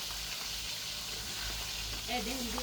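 Spices being stirred together with oil, salt and chili in a hot pan give a steady, close sizzle and frying hiss throughout, with a faint voice near the end.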